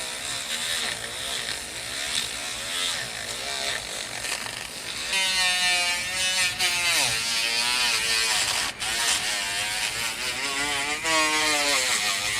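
A Dremel rotary tool with a Kutzall burr carves a wood spirit face, a loud, close, continuous high whine whose pitch drops and wavers as pressure on the wood slows the motor.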